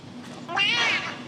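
A cat on a Ford Mustang GT350 in a car workshop gives a single loud, close meow-like call that rises and falls over about half a second, following a quieter stretch of faint background noise.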